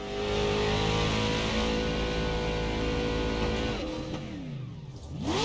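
The Casino M2 race car in the iRacing video game runs its engine loud and close, holding a high steady drone before the pitch sweeps down and then rises again near the end.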